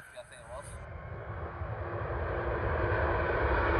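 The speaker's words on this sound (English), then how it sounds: "Arriving in now is a Virgin Atlantic flight from Delhi, formed of an A350" A Virgin Atlantic Airbus A350 arriving at London Heathrow makes a broad jet roar that swells steadily louder as it approaches, with a brief bit of other sound at the very start.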